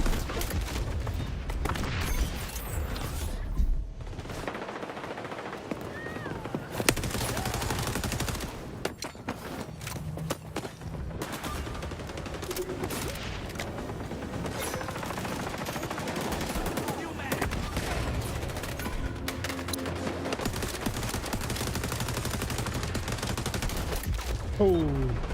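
Gunfire in the video game XDefiant: rapid bursts of automatic weapon fire and scattered shots over a busy game soundtrack, fairly loud and continuous throughout.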